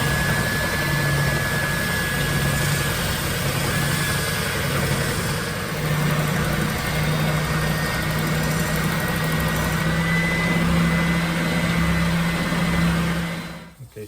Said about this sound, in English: So I'm just going to take it off on the sander.